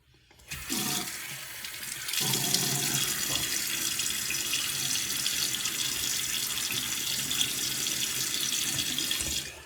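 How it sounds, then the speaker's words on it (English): A tap runs at a sink while a face is wetted for a shave, a steady, close rush of water that starts after a short quiet opening, with a brief change in the flow before it settles into a constant loud stream, no talking. "Let me get my face wet."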